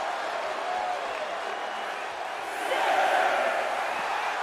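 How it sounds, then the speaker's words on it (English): A large wrestling crowd in the video game WWE 2K24 roars and cheers in a steady wash of noise, swelling a little louder toward the end, with no clear voices standing out. "Look at her taking in all the energy from the crowd."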